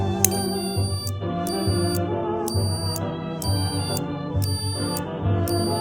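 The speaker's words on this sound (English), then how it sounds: "So now, continuity, no continuity." A multimeter continuity tester beeps in short, evenly spaced bursts while a 1934 Westinghouse WR-24 is being restored, with a bright steady tone repeating about seven times over a low background hum.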